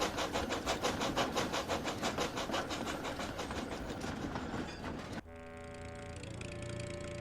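Toby the steam engine hauls a string of quarry trucks along the railway, wheels clicking in a steady rhythm, then the clatter cuts off into a sustained, brake-like squeal.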